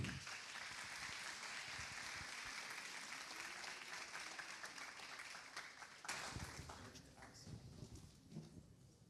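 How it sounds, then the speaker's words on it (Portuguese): Sustained applause from an audience at a courthouse mental health talk, welcoming the presenter, a broad steady patter of many hands, fairly faint and distant, continuing for several seconds. "Palmas, por favor."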